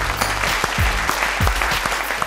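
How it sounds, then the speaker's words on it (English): Studio audience applauding a game show contestant, steady clapping throughout with low thumps and some background noise underneath. "let's have a round of applause for Morgan."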